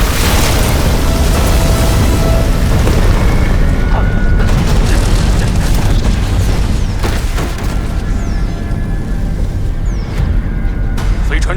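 The spaceship Hope lifts off in an animated sci-fi scene with a loud, continuous roaring rumble of engine thrust that stays dense and heavy for the whole stretch, with occasional booming surges and mechanical clanks.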